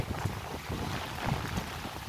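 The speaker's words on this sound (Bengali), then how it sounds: "খুব হাওয়া দিচ্ছে, দেখতেই পাচ্ছেন, ভীষণ হাওয়া দিচ্ছে।" Steady wind rushes and buffets against the microphone in a rainy garden, a broad blustery roar with gusts swelling and easing throughout.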